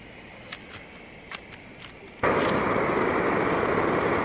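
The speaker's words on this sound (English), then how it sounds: "And that is the sound of this stove working." Kovea Booster+1 gas camping stove lighting up, a few faint clicks giving way to a sudden, steady loud roaring hiss of the burning gas flame that continues unbroken.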